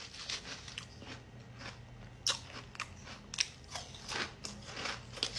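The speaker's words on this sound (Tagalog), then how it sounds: "Kahit babad siya, nakababad yung sauce niya dito sa cereal, guys. Grabe, crunchy pa din siya." Crunchy cereal snack soaked in sauce being bitten and chewed close up, a string of sharp crackling crunches at irregular intervals against a quiet background.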